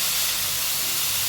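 Grated radish and coriander sautéed in a pan, a loud, continuous broadband hiss of sizzling, close and steady with no voices.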